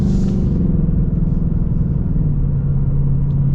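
The deep V8 engine of a 2025 Ford Mustang Dark Horse idles and rumbles steadily nearby, a low throbbing burble with no talking.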